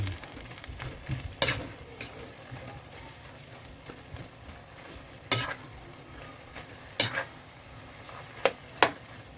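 Ampalaya and egg cooking in a pan, with a faint steady sizzle under scattered sharp scrapes and clinks of a utensil stirring against the pan; no talking.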